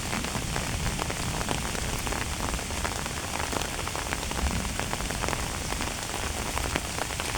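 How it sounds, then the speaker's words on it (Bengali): Rain falls steadily on a lychee orchard, a loud, dense hiss of drops hitting surfaces all around without a break. "বৃষ্টির মধ্যে আসছি গাইস"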